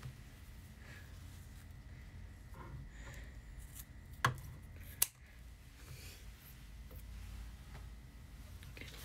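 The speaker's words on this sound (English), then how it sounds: "So I'm going to cut off and leave about 1/4 inch." Scissors snip through D-ring strap connectors for a clutch bag in two sharp, close cuts about a second apart, with a quiet room otherwise.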